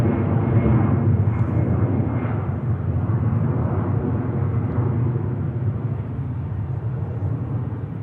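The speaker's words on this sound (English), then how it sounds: "And there goes the EasyJet." An EasyJet airliner takes off at Manchester Airport: a loud, steady broadband jet roar holds close throughout, easing only slightly toward the end.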